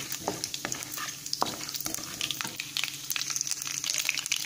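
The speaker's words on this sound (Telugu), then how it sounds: "చూసారా, మనకు ఆవాలు చిటపటలాడుతున్నాయి కదా." Mustard seeds sputter and crackle in hot tempering oil with green gram dal and cumin, a steady close-up sizzle broken by sharp pops and stirring scrapes throughout.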